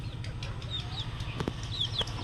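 Young chicks recovering from a cold peep faintly while walking about, giving a few thin, high calls over a steady low background hum, with a soft thump near the middle.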